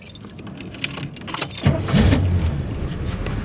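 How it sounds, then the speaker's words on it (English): A 1979 Pontiac Trans Am, very original with T-tops, cranks and fires up about halfway through. A deep engine rumble swells into a steady idle after some light jangling of keys. "Car turns right over."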